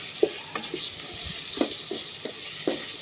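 A cup of onion and a cardamom pod fry in a pan while being stirred, with a soft sizzle under repeated scraping strokes of the spoon at an uneven pace, close by.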